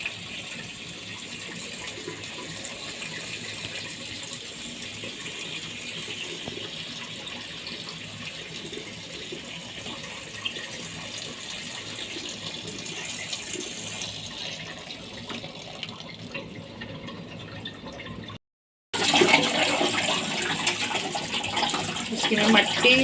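Tap water runs steadily over spinach leaves being washed in a sink, a continuous hiss that cuts out briefly near the end before a louder splashing gush resumes.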